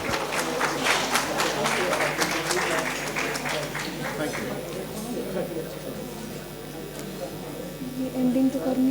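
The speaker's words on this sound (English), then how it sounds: "Please give a huge round of applause, everyone." An audience at a hospitality HR summit applauds in a steady, dense patter of clapping that thins out over several seconds, mixed with a low electrical hum and some speech.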